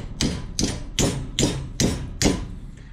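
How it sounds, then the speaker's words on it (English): A hammer strikes a steel intercooler mounting bracket bent in a vise for a Toyota Starlet 4E-FE, six loud, close metallic blows at an even, roughly half-second rhythm, with no talking. "you do have to tap it on the back with a hammer"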